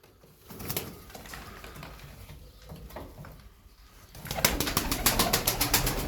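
Pigeons coo in a Turkish loft, soft and low at first, then louder and denser toward the end, with light patter and wing flutters mixed in.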